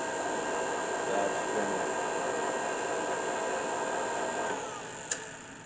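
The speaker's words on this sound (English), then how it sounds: "This is our Kwik-Way valve grinder." A Kwik-Way Model EVS valve grinder and valve re-surfacer runs with the valve spinning, giving a steady, even mechanical whir with a faint tonal hum that eases off near the end, ending in a single click.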